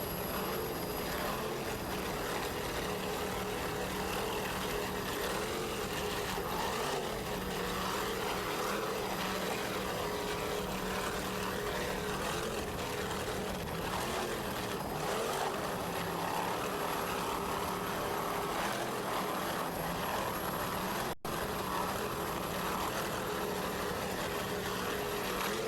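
An offshore racing powerboat, A14 Full Throttle, runs during a U.S. Offshore race at the Virginia Beach Grand Prix, its engines producing a loud, continuous roar with a constant wind-buffeted rumble throughout.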